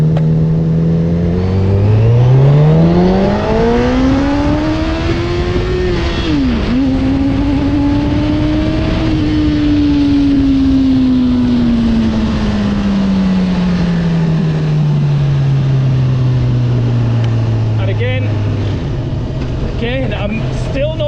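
A Honda CB1000R motorcycle engine revs hard under acceleration, its pitch climbing steeply, dipping at a gear change, then rising again before winding down, loud and close throughout.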